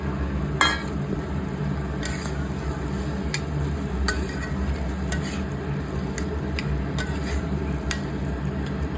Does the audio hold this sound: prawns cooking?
yes